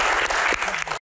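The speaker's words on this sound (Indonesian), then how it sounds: "Baik, tepuk tangan." A seated audience at a Q&A session on disaster mitigation budgets claps in a dense, loud burst of applause lasting about a second, then it cuts off abruptly.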